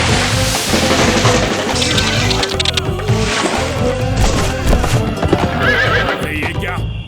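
A cartoon horse arriving in Dholakpur clip-clops in quick rhythmic hoofbeats and lets out loud neighs over music, with a voice talking briefly.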